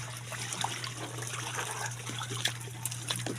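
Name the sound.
water flowing in a stream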